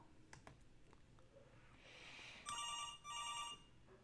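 A phone rings quietly indoors with two short bursts of electronic ringing midway through, above faint room noise and scattered light clicks.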